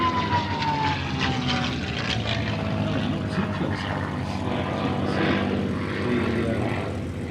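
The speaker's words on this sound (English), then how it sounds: "The Mustang is actually doing what it did then, trying cover from behind." A P-51 Mustang propeller fighter flies at an air show, its engine a steady, fairly loud drone with a slowly falling whine, holding evenly from start to finish.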